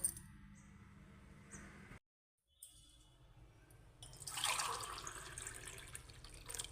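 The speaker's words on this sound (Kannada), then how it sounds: "ಈಗ ಎಂಟು ಗ್ಲಾಸ್ ನೀರು ಹಾಕ್ಕೊಳ್ಳುವ" Water is poured into a vessel for sugar syrup while making gulab jamun in a home kitchen, a faint splashing and trickling that breaks off briefly and then resumes more strongly.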